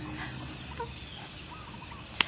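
Chickens cluck faintly in the background over a steady hiss and high whine, with a few soft scattered calls and one brief sharp click near the end.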